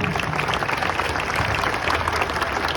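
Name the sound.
audience applause for the panel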